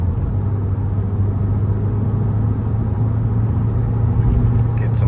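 A car engine rumbling steadily with a downshift and a modest rise in revs, close and continuous, with no voices.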